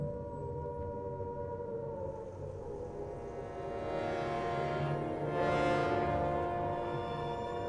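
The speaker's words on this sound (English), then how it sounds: "In Britain, the air raid sirens had sounded within minutes of Prime Minister Neville Chamberlain's" A wartime British air raid siren wails steadily, its rising and falling tone swelling louder toward the end, heard alone without voices.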